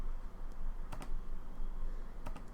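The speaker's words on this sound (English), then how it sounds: "She is just going to type it." Quiet typing on a computer keyboard: a few soft, scattered key clicks, a pair near the middle and another pair at the end, over a low background hum.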